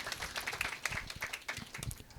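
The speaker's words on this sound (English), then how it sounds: "So a big round of applause for Shilpa Pradhan." Audience applause for a panelist at a state employer brand awards panel discussion, a steady dense clapping that fills the short stretch at moderate loudness with no voices over it.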